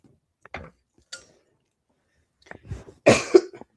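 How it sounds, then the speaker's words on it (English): A few separate coughs in a quiet room: a short one, a pause, then two harsher coughs close together near the end. "Gosh, I'm coughing so much."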